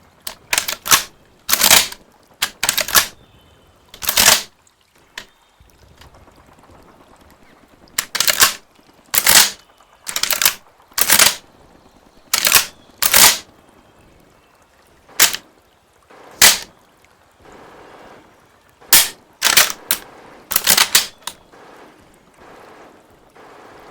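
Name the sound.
shotgun being handled, gun ASMR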